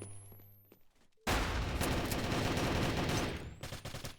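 Dense video game gunfire from a competitive team match bursts in suddenly after a quiet second, with sustained overlapping shots and automatic fire continuing loud to the end.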